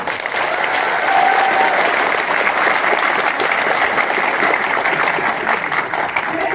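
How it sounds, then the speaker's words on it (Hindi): Steady, loud applause from a large audience at a Vestige business success event, a continuous dense wash of clapping hands with no break over several seconds. "एक जबरदस्त ताली आपके हाथ में"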